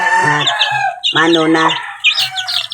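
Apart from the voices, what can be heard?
chicks chirping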